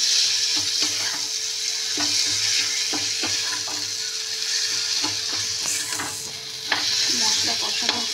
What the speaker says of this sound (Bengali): মশলা কষানো